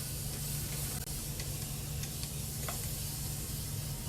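A steady hissing spray from a spray bottle wetting hair runs continuously, close and fairly soft, with faint brief clicks scattered through it.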